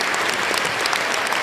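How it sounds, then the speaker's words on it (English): An audience applauds at the opening of a talk show, a dense, loud burst of clapping that fills the whole short moment with no voices over it. "Applause."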